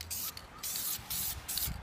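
Aerosol spray can coating rally-style truck wheels during a C10 restoration: three or four close hissing bursts, each about a third of a second long, with short gaps between them.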